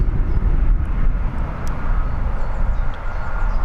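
An EasyJet airliner arrives at Birmingham airport, its engines producing a loud, continuous low roar with a broad rushing hiss throughout.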